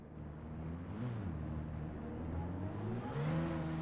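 A race car engine in Gran Turismo 7 hums and revs steadily through a lap, a smooth continuous mid-pitched drone with gentle rises in pitch as the car accelerates, heard alone at moderate volume.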